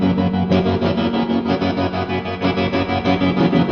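Guitar played through a photocell tremolo pedal placed after a lush plate reverb and an Alexander Pedals Space Force reverb, with a second Boss RV6 reverb after the tremolo, giving a steady rhythmic pulsing wash of effected chords throughout.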